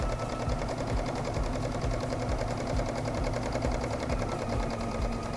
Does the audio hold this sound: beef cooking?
no